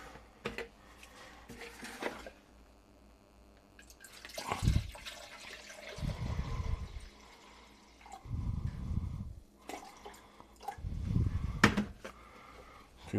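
Vinegar is poured into a pot for a pickling liquid in several separate bursts, each a low gurgling splash lasting about a second, with drips, clinks and quiet gaps between them.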